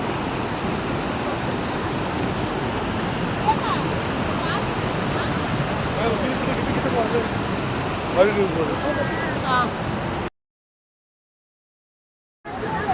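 Icy water of Jogini waterfall near Manali rushes and roars in a dense, continuous wash, loud and close for about ten seconds before the sound cuts out briefly and then returns.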